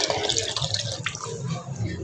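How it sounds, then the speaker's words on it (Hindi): A small amount of water is poured into vegetables cooking in a pan on a gas stove, making a continuous close splashing and sizzling wash for about two seconds. "थोड़ा सा मैंने डाला इसमें पानी"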